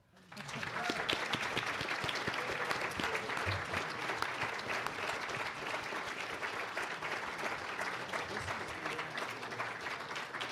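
Steady, even applause from a mid-sized audience at a municipal candidate forum in Manitou Springs, rising quickly and holding as a dense wash of clapping at moderate distance throughout.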